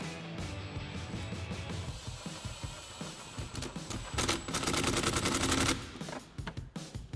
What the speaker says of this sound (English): to tighten this down, you can either use a flathead or we can use our 8mm socket